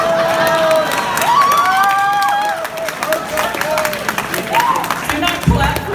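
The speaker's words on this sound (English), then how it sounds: "Do not clap for that." An audience at a comic fest panel claps and cheers in a busy room, the clapping running throughout under whistles and shouts from the crowd.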